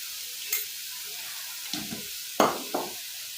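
Banana flower curry stirred in a pan after salt goes in, a few short separate scrapes and sizzling bursts of stirring over a quiet background.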